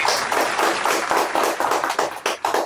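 Enthusiastic audience applause welcoming a poet to the stage at a Hindi kavi sammelan, a dense, steady patter of many hands clapping loudly and close throughout, swelling in bursts, with no talking over it.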